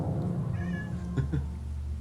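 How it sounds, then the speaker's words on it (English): A cat meows indoors, a few short plaintive calls in the background under a steady low hum, faint and somewhat distant. "Can you hear a cat?"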